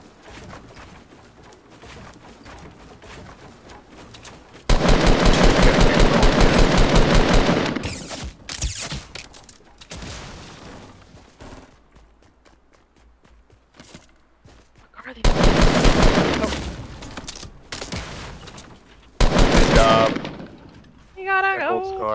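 Video game gunfire crackles in long, loud machine-gun bursts, separated by quieter stretches of scattered single shots and footsteps, with a player's voice talking between the volleys.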